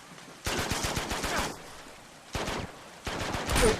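Gunfire in the action game Uncharted 2, three separate bursts of rapid close shots with quiet gaps between them, the last burst the loudest.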